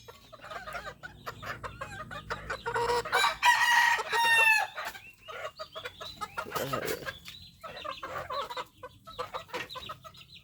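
Farmyard chickens cluck busily while a rooster crows loudly close by, with scattered clucks continuing throughout as feed rice is handed out.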